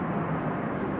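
Thrust reversers roar on a KM Malta Airlines airliner landing at Amsterdam Schiphol, a loud, steady broadband rush heard briefly and alone.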